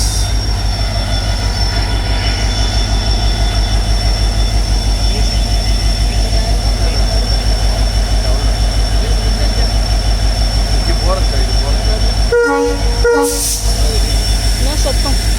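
A departing train rumbles steadily at close range, a loud low drone with wheel noise, then a sharp horn-like burst near the end.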